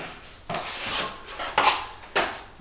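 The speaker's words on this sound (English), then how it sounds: "You need to take a nice big scoop and press it along the ceiling like that, almost flat." A drywall trowel scooping joint compound off a hawk for ceiling butt joints, making three close scraping, slapping strokes at an uneven pace, with no talking.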